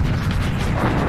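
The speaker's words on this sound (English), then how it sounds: "Ah, the rocket launcher." Rocket launcher blasts from the VR shooter Serious Sam: a dense, loud, continuous rumble of low booms packed tightly together, with no talk over it.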